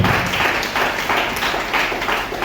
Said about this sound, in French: On acclame fortement sa parole.